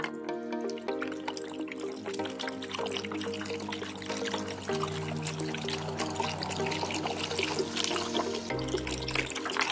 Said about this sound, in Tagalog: Tapos haluan po natin ito ng tubig.